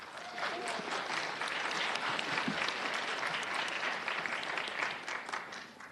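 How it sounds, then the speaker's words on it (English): An audience at a Los Angeles County board gathering claps in a sustained round of applause, full and even throughout with a faint voice briefly audible beneath. "Please give him a round of applause."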